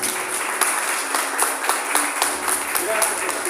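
A church congregation claps in praise, steady applause from many hands filling the room at moderate loudness, with a voice speaking over it.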